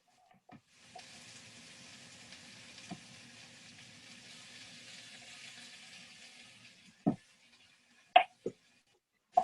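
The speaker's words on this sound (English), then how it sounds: "Try to get some of those onions to the bottom of the pan and continue just letting it simmer and cook." Onions simmering and sizzling in a cooking pan give a steady, soft hiss lasting several seconds, followed by a few sharp clinks or knocks near the end.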